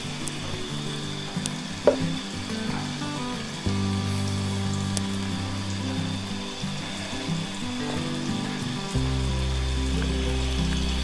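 Potatoes sizzling steadily in desi ghee in a pan, a soft continuous crackle and hiss at moderate level with occasional small pops, no talking.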